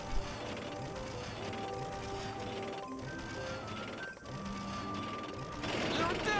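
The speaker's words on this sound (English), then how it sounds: "Do me a favor and loosen up that winch crank" In the Ratchet & Clank video game, a winch crank is loosened with fast mechanical ratcheting clicks and gear rattle, layered over a continuous game soundtrack.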